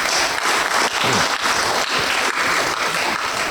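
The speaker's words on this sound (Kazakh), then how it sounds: "Мына шапалақ сіздерге." A crowd at a Kazakh bride's farewell celebration bursts into loud, sustained applause, a dense continuous wash of clapping with no voices.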